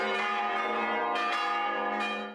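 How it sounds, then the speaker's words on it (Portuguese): Seven cathedral bells, some donated by local families and two from the old parish church, ring out for the first time in a loud, sustained peal with fresh strikes swelling the resonant tone at intervals. "Os 7 sinos da catedral, doados por famílias da cidade, e 2 que já integravam a antiga igreja matriz, soaram pela primeira vez"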